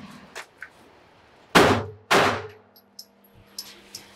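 Two sharp, loud pistol shots about half a second apart during a slow, deliberate 10-round dot drill, each with a brief ringing tail, followed by faint clinks and small knocks.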